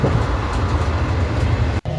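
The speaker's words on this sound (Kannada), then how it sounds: "ಟ್ರೈನ್ ತೋರಿಸ್ತಿದ್ದೆ" Steady low rumble of a train rolling past, constant and fairly loud, with a brief dropout near the end.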